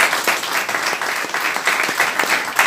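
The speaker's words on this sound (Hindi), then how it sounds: "उनके लिए भी जोरदार तालियां" Applause from a crowd at a federation birthday celebration, steady and fairly loud with scattered individual claps throughout.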